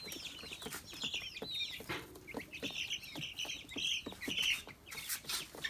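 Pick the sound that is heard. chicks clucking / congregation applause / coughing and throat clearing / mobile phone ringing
chicks clucking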